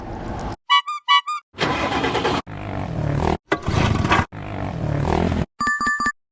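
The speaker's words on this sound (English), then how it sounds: "Sound is go-kart drive-by." A go-kart's small engine roars past in several loud, rough bursts of noise, each rising and dropping away. A short run of chiming electronic tones closes it.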